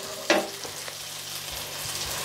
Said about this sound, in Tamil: வெங்காயம் வதங்கிட்டது.